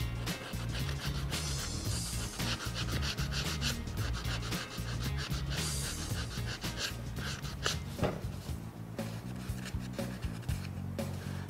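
A Wurth flex sander works a surface with continuous close, scratchy rubbing strokes and no pauses throughout.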